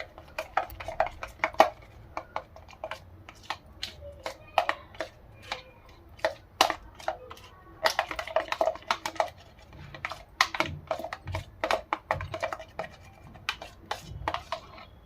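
Moisturizer cream blended with preservative and vitamin E oil is stirred in a small container, giving quick repeated clicks and taps of the utensil against the sides, close and fairly faint, with no talking.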